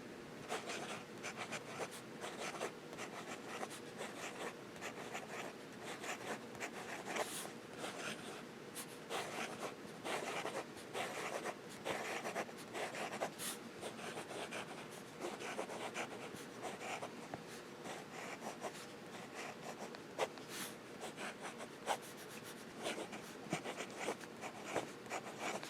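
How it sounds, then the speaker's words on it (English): A Montblanc Starwalker fountain pen writes fast on paper, a steady close scratching of the nib with quick strokes and small taps, faint and continuous for over twenty seconds. "Fast writing."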